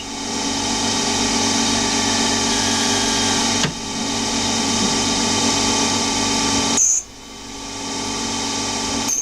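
A small CNC lathe's stub drill boring into a brass fitting, a continuous mechanical whir broken by two brief dips as the cut pauses and resumes.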